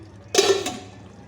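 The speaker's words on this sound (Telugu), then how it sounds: "ఇటుపక్క బియ్యానికి నీళ్ళు పెట్టిన ఎసరకి నీళ్ళు పెట్టుకున్నా" A short splash and gurgle of water poured into a metal pot for cooking rice, one brief burst that fades quickly.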